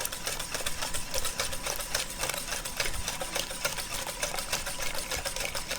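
A whisk beats steadily through pumpkin pie filling as evaporated milk is poured in gradually, giving a fast, continuous metallic scraping rhythm close up, with no talking.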